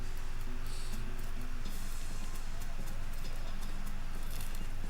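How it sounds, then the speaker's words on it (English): Horse hooves clip-clop in a steady rhythm in the Western-themed game West of Loathing, a loud, even trot with faint music beneath. "Okay, well, I got this horse."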